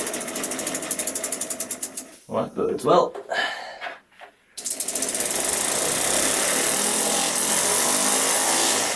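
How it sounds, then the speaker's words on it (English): A Lego air-powered single-cylinder engine runs on compressed air at about 35 psi. Rapid, loud mechanical chattering gives way to a brief gap where someone speaks, then settles into a steady high-speed whirring. "let's try her out using one of our fresh new engine cylinders, at about 35 psi"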